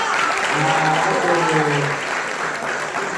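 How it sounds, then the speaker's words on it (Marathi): A crowd at an evening folk-singing program at a winter student camp claps loudly and steadily for about three seconds, while a voice carries on briefly over the applause. "एकदा जोर टाळ्या वाजव"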